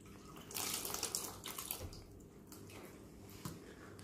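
Water running from a tap during Islamic ablutions, with a steady splashing flow that rises and falls as the hands and ankles are wetted close by.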